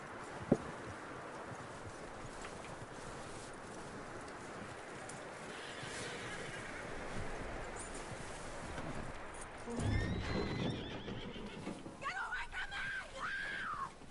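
In the video game Red Dead Redemption 2, hooves clop steadily on the ground while a horse snorts and whinnies, with a few distant bird calls and short bursts of voices.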